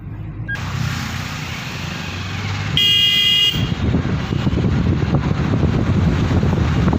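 A car driving along a road, with steady engine and wind rumble throughout and a single sustained horn blast about midway, no voices.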